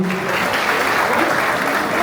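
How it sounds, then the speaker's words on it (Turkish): Audience applause at a youth solidarity night in Kuyucak, Niksar, a steady dense clapping that fills the whole stretch, close and loud with no voices over it. "Alkışlar gençlerimiz için olsun"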